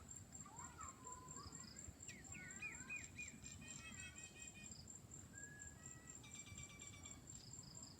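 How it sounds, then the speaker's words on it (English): Outdoors, crickets keep up a steady high, faint chirr under scattered bird chirps and tweets, with quiet voices in the background. "Tune in to the sounds of nature, crickets, birds, doves, children playing."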